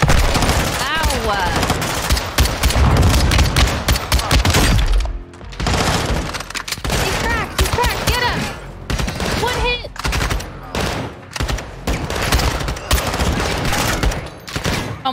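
Heavy gunfire in Call of Duty: Modern Warfare II, loud automatic bursts and scattered single shots over a long stretch, with some thuds and breaking impacts and occasional voices mixed in.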